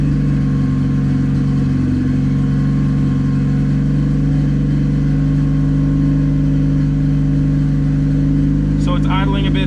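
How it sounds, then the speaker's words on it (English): A turbocharged Honda Civic with a D16Y8 engine idles high and steady, a constant close engine drone with no revving, joined by a brief rattle near the end. "So it's idling a bit high."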